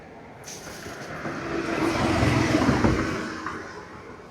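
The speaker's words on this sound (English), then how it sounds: "There's lots of rushing cars." A car rushes past on a road near a golf cart path, its roar swelling from faint to loud and fading away over a few seconds.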